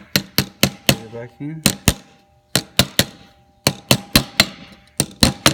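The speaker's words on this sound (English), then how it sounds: "Just tap a little bit with a hammer." A hammer taps a belt part back into place on an H1503TP machine during a belt replacement: sharp, close metallic knocks in quick bursts of three to five, with brief pauses and a short spoken phrase.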